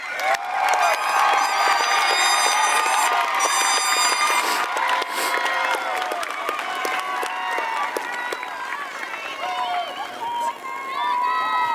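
A graduation crowd claps and cheers loudly for the new graduates, with dense, sustained applause and shouts that slowly thin out over several seconds.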